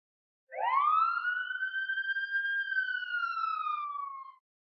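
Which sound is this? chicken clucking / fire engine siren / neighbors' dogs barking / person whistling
fire engine siren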